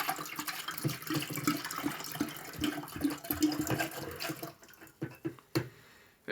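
Chardonnay bubbling as it boils while coffee is brewed in a kitchen, a steady close-up liquid churning and splashing that thins out near the end into a few sharp isolated clinks.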